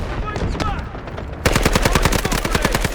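Rapid automatic SMG-45 submachine gun fire in the Delta Force shooter game, starting as distant rattling bursts, then a loud, steady stream of sharp shots close up that runs to the end.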